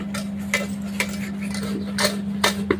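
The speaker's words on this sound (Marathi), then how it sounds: "या गाळणीने आपल्याला पुरण असं बारीक करून घ्यायची" Cooked lentils for puran poli pressed and mashed through a metal strainer, with regular scraping strokes about every half second over a steady low hum, close and fairly quiet, no voices.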